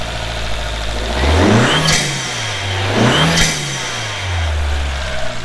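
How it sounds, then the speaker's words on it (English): Subaru FRS with a budget exhaust revving in repeated pulls, the engine climbing and falling twice with turbo flutter, loud and close, with a final rev at the end. "He's gonna show us the turbo flutter"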